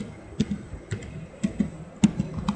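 Sparse keystrokes on a computer keyboard while typing a command: a few soft, close clicks in small clusters over a quiet background hiss.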